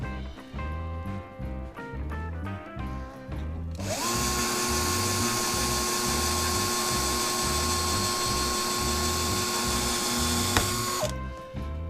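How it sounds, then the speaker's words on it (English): A drill with a cobalt bit bores off the head of a rusted bolt on an old Lotus Elan, starting after brief rattling and then whining steadily and loudly for about seven seconds before stopping abruptly. "You just drill the head off. Ideally with a cobalt drill bit."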